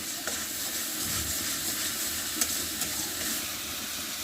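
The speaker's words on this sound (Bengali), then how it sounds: "যে মশলা অনেক সুন্দরভাবে কষিয়ে নেওয়া হচ্ছে তেল বের হয়ে গেছে" Spice paste cooking down in oil for fish in a home kitchen, giving a steady broad hissing sizzle at close range with a few faint clicks, no voices.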